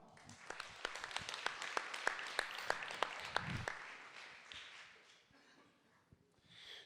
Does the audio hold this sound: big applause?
yes